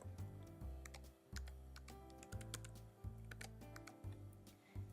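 Keys on a computer keyboard tapped in quick, uneven bursts while a Wi-Fi password goes in, close and clear with short pauses between the runs of clicks.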